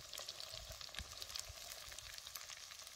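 Sprouted beans, field beans, fresh chickpeas and green peas roasting in oil over a wood-fired chulha, giving a continuous quiet sizzle with soft stirring clicks and scrapes.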